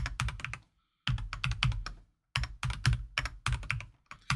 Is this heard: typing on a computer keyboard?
yes